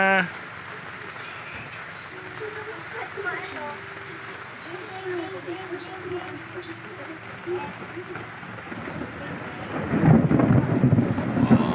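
Steady heavy rain with large drops and low rumbling thunder building, swelling into a louder roll near the end, while voices talk faintly in the background.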